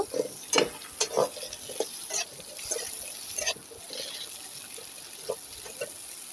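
Chopped ambarella is stirred in a pan, bursts of scraping and light sizzling coming in uneven strokes, close and moderately loud, fading to a quieter simmer.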